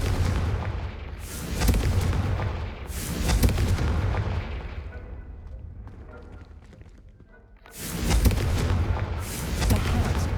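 Fire spell blasts in the Hogwarts Legacy video game, several loud booming bursts with a rumbling tail, a quieter lull in the middle, then two more heavy blasts near the end.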